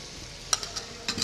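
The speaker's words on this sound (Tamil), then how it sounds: "இந்த வெங்காயம் வந்து ஒரு பொன் முருளை வர அளவுக்கு இதை நல்லா வதக்குங்க" Chopped onions being stirred and sautéed in hot oil in a pan for nawabi chicken fry, a faint, steady sizzle broken by a few soft scraping stirs.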